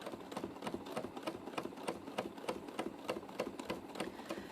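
A free motion quilting machine with a size 90 titanium needle stitches in a fast, even mechanical rhythm, close and steady for the whole stretch with no talking.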